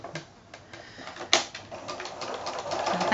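A sewing machine stitches binding along a quilted placemat, a close, fairly quiet run of rapid needle clatter with a sharp click partway through, building steadily toward the end.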